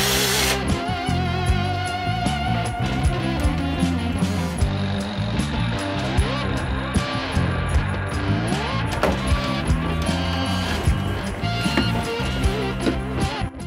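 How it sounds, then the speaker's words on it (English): A power drill whirs steadily close up, its motor pitch rising and falling as it bites into a hard radio cassette player casing, running continuously without pauses. "Drill into the side here, get that fixed in place"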